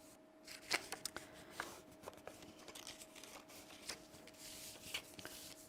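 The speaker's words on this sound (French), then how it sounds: "on peut plier. On met la règle pour faire une belle ligne." Paper is folded and creased along a ruler while making a kamishibai box, giving crisp rustles, scrapes and light taps at an irregular pace, close and fairly quiet.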